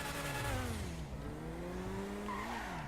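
An Elegy sports car races in a video game, its engine note rising and falling through the gears while tires squeal, loud and continuous with no talk over it.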